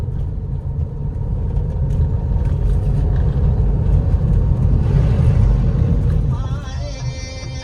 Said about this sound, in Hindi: हालत के हिसाब से ट्रैक्टर बहुत जोर लगा रहा है